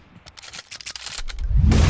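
Gunfire in the PUBG Mobile battle-royale game crackles as a run of sharp shots, then swells into a loud, dense burst of rapid fire toward the end.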